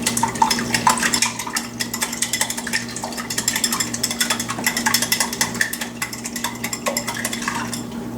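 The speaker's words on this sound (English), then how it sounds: "And now we're going to give that a good whisk" Eggs beaten for an omelette, a rapid clatter of a whisk against a bowl in steady strokes, close and fairly loud, with a constant low hum underneath.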